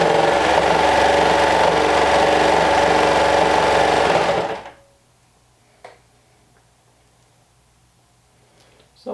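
A sewing machine runs steadily for about four and a half seconds while stitching a quarter-inch seam on a shirt, then stops, leaving near silence with a couple of faint clicks.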